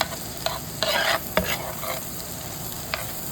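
A homemade sauce with browned garlic and butter sizzles in a pan as it is stirred, the steady frying hiss broken by several scraping strokes up close.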